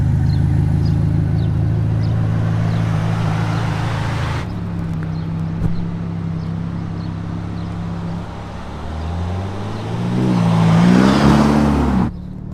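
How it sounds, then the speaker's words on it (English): A Ferrari Roma engine on its first drive, with a steady low droning hum through the cabin, a shift partway through, then a rising rev with climbing tones before it cuts off sharply near the end. "First drive of the Roma."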